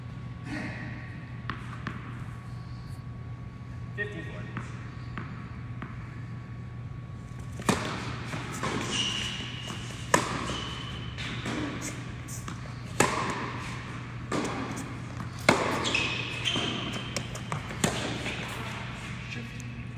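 A tennis rally between two players, with repeated crisp racket strikes and ball bounces at irregular intervals over a steady background hum. Occasional faint voices.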